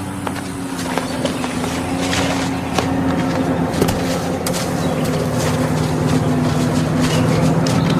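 A steady, loud engine drone rumbles throughout, with a constant low hum and scattered clicks and knocks on top.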